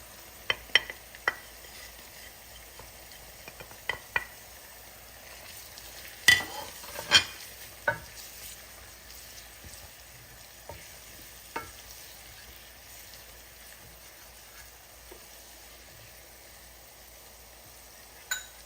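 Onions and garlic frying in a pan for a Durban prawn curry, a faint low sizzle under scattered sharp clicks and scrapes of a spoon on the pan, spaced irregularly across a long stretch.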